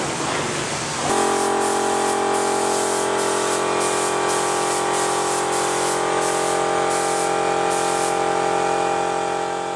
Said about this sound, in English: he'll be spray painting it